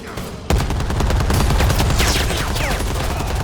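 Gunfire in the video game Predator: Hunting Grounds: after a brief quieter lead-in, a loud burst of rapid, sustained automatic shots rattles on steadily to the end, close and unbroken.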